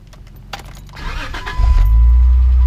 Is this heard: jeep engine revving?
yes